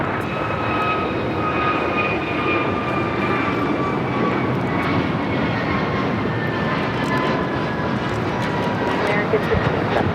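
An American Airlines jet departing LAX, a loud continuous engine roar with whining tones held steady throughout, close and dominant, with no voices over it.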